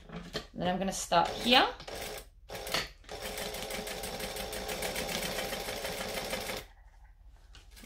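A sewing machine runs a steady line of stitches through fabric, an eighth of an inch from the edge, close and continuous for several seconds after a short spoken remark, then stops.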